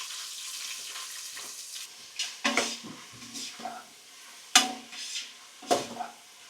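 Onion with cinnamon, cloves, cardamom and bay leaf frying in oil and ghee for biryani, a low steady sizzle broken by several sharp scraping stirs and clinks of a spoon against the pan.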